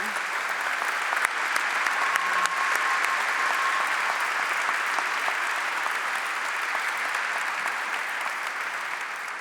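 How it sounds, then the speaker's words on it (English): Sustained, dense applause from an awards ceremony audience, a steady wash of many hands clapping at even loudness throughout with no voices standing out. "If everyone can clap for them."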